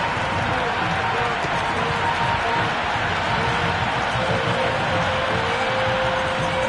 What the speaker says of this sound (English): The crowd are really getting quite raucous. It's going to be difficult to focus down in the middle with all this noise.